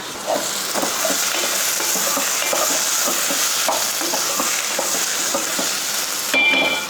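Freshly cut eggplant pieces sauté in a pan with a steady, close sizzle, broken by soft stirring scrapes and a brief clink of a utensil near the end.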